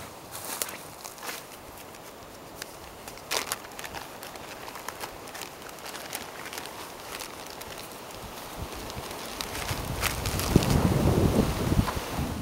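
Wind gusts across an outdoor campsite while a tent is being put up, a steady rushing buffet against the microphone with scattered rustles and handling knocks, swelling louder toward the end.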